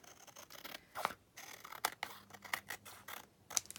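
Scissors snip paper to trim the edge of a handmade traveler's notebook: a run of quiet, crisp cuts in an uneven rhythm, close up and faint, with no speech.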